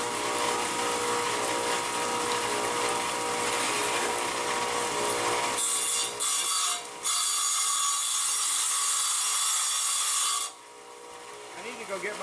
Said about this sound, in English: The saw is kind of loud.